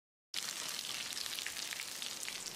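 A steady, close sizzle of coconut and curry leaves frying in hot oil over low heat crackles continuously after a brief silent start, with no talking.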